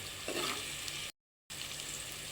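Green chillies, onions and curry leaves sizzle in hot oil with a continuous close frying hiss, cut off by a brief gap of silence before the sizzle resumes at the same level.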